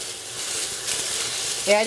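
Ground beef browning in a skillet, a steady close sizzle with light stirring throughout the short stretch, no voice over it.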